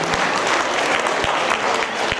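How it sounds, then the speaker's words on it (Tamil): Audience applause at a Tamil school's annual day celebration, steady and dense clapping from a hall full of people throughout, fairly loud with a few sharper claps standing out. "எனக்கு பெரிய கைத்தட்டல் கொடுத்துருங்க"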